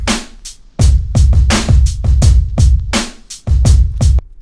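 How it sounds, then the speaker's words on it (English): A punchy drum loop with heavy kicks and crisp snares in a steady, syncopated groove, loud and up front with nothing else playing. "drum loop sounds like this."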